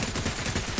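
Rapid gunfire in the video game Fortnite, a dense burst of shots packed into under a second, loud and continuous with no talk.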